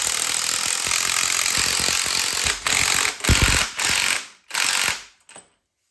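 An impact wrench tightening spring compressor bolts during a BMW 328i suspension refresh, heard as several loud, short bursts of rattling hammering separated by brief pauses, ending in near silence, with no talk.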